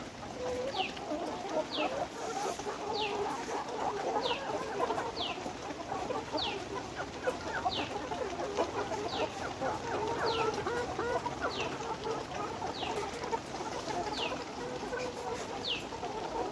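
Caged Nourish Sebastar cross layer hens on a poultry farm fill the air with continuous overlapping clucks and soft cackles, a busy chorus from many birds at close to middle distance.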